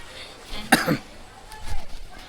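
A short burst of coughing, two or three rough hacks close by at a busy weekly village market, followed by faint murmuring in the background.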